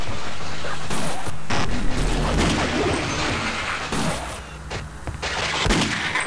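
Gunfire in Half-Life: Opposing Force, with .357 revolver shots mixed into a dense, loud stretch of game combat, with several sharp bangs standing out across the clip.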